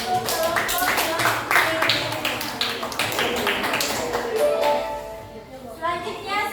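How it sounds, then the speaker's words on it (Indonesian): Applause for a group of presenters in an Indonesian school classroom, with dense claps and taps at close range running throughout, overlapped by chatter and children's voices. "beri aplaus dulu untuk kelompok yang"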